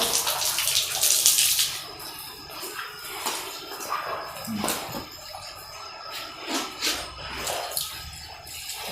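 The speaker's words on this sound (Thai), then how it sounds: "จะเอาน้ำสะอาดอัดเข้าไป น้ำประปา" Clean tap water forced into an opened abscess near the navel of a post-calving dairy cow, a gushing, splashing rush of liquid with scattered knocks and outdoor background noise, no clear talk.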